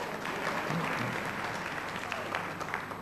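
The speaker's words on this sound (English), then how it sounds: "A little bit of a sporadic clap" A comedy show audience breaks into scattered, sporadic clapping, a thin, even patter of hands heard at moderate distance with no voices over it.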